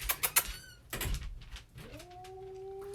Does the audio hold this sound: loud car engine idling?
no